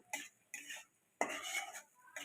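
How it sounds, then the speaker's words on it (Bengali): Mustard-poppy-green chilli paste being stirred into cooked masala in a pan for an okra and potato curry, three or four short bursts of scraping spoon against metal with pauses between, fairly quiet and close. "মশলার সাথে খুব ভালো করে এটাও আমি কষিয়ে নিচ্ছি"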